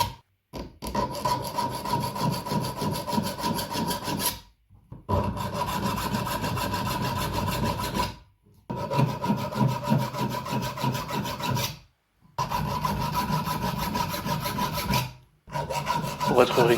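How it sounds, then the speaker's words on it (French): A triangular file rasps notches into a knife during knife making, a close, rhythmic back-and-forth scraping in four long runs of even strokes separated by short silent pauses. "Puis on réalise un départ avec une lime tiers-point."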